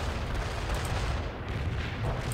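An artillery barrage in the video game World in Conflict, a dense, continuous roar of rumbling blasts that blend into one another without a break.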